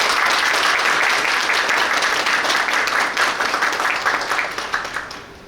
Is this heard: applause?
yes